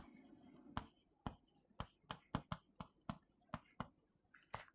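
Writing on a board during a lecture gives a series of faint, quick strokes and taps in an irregular rhythm, about a dozen in under five seconds.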